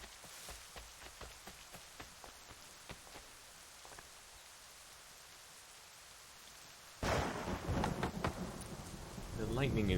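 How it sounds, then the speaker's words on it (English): Steady rain falls in Assassin's Creed III Remastered, a soft hiss with scattered drops, then heavier and louder downpour with thunder-like rumble in the later seconds. "And it's still raining."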